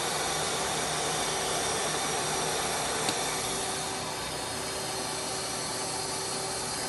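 The spindle of a 2011 Mazak Quick Turn Nexus 100-II CNC lathe runs at high RPM with a steady, even, broadband whir and faint tonal whine, holding constant throughout with one small tick midway.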